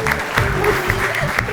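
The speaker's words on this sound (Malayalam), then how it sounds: "മറ്റൊരാളുടെ വിഷമം പറയുമ്പോൾ ഇന്ന് കൈയടിക്കുക" Audience clapping at a stand-up comedy show, a burst of many hands applauding together, moderately loud and steady, with some crowd murmur and a voice briefly under it.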